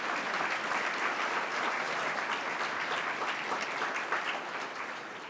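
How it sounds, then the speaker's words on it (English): An audience at a charity dinner claps in a sustained, dense burst of applause filling the room, staying even and loud before tapering slightly at the end. "give him a big round of applause"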